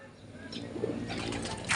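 Racing pigeons arriving at a club training loft, with soft flapping and faint cooing over a steady background murmur; wingbeats grow a little louder near the end.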